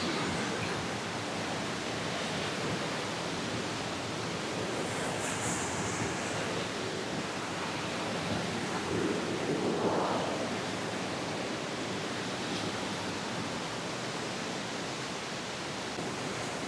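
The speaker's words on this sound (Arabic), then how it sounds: "شوف هنا اهو اهو، مية الشلالة اهي." Waterfall water in a Swiss or Dutch nature setting rushes in a dense, constant broadband roar that is steady and fairly faint, with no speech over it.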